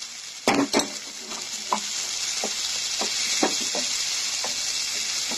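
Chicken sautés in a hot pan for a capsicum chicken fry, with a loud continuous sizzle and several sharp scrapes and taps of a spatula stirring through it.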